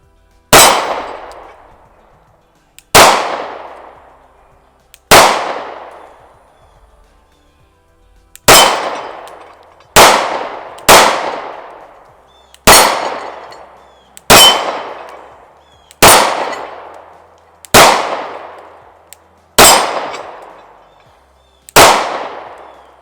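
Sig P365 pistol rounds ringing off steel plates at an outdoor range: eleven sharp metallic clangs, each decaying quickly, spaced unevenly about one to three seconds apart, loud with no talk.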